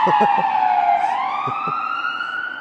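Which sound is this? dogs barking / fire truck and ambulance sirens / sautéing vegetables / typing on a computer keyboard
fire truck and ambulance sirens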